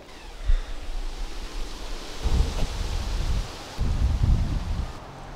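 Heavy rain pouring outside during a thunderstorm, a constant broad hiss of rainfall with deep rumbling swells of thunder rising and fading underneath, steady and fairly loud, with no voices.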